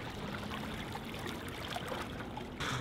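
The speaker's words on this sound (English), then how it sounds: "I think the sound of water is so beautiful, or very calming to me" Water trickling and burbling outdoors, a soft continuous flow with small splashes and gurgles, fairly close and quiet, with a slightly louder burst of water near the end.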